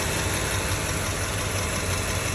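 A Toyota Land Cruiser 100's 2UZ-FE V8 engine idles with the hood open, a loud, steady, continuous mechanical hum heard up close without any talk.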